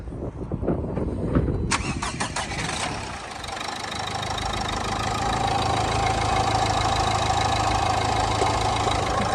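A 2015 Dacia Duster engine cranks briefly, catches and settles into a steady, even idle that runs on alone at close range without shaking or rough knocks.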